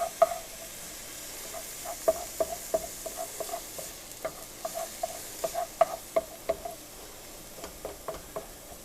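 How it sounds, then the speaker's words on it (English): Spices toasting in a hot pan for baked ziti, a soft steady sizzle dotted with light crackles and the tap of stirring, fairly quiet and close with no talking. "I go ahead and add my spices in because I like to toast them up a little bit"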